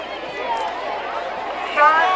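A homecoming high school football crowd for the Plymouth Panthers at a night game: a steady, distant murmur of many voices and scattered cheering that swells slightly near the end.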